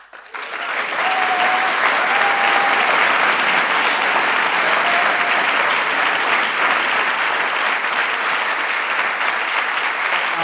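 An audience applauds Joe Biden during a speech on American auto jobs and the UAW, clapping swelling quickly into steady, dense applause that holds for about ten seconds.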